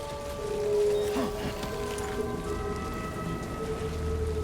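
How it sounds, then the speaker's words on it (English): Rain falls steadily in Death Stranding 2 as a continuous patter on the ground, with a slightly louder swell near the start and faint tonal game ambience beneath. Nobody speaks. "Okay, it's a-raining."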